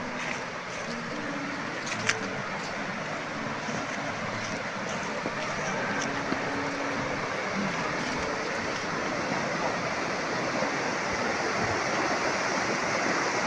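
Swollen river water rushes steadily at Leuwikeris dam after two days of heavy upstream rain, a dense continuous roar with faint voices briefly under it.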